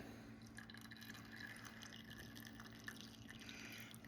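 Maple syrup drips steadily through a filter after boiling, a soft continuous trickle of liquid falling into a pot, close and fairly quiet with a faint background hum.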